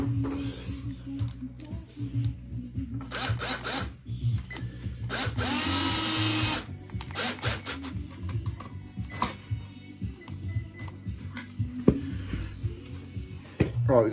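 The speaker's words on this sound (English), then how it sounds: "what we're going to try and do is drill this side of that stack" A power drill whirs in short bursts nearby, drilling for pipe runs during plumbing work, with one longer sustained run in the middle, amid quieter clattering between bursts.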